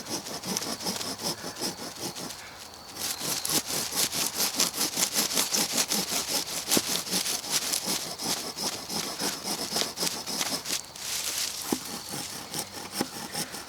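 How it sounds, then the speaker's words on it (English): A folding pack saw cuts through wood outdoors in the woods in steady, rapid back-and-forth strokes, loud and close, with a brief pause before the rasping rhythm resumes. "I wanted to bring it out to the woods and see how useful it is"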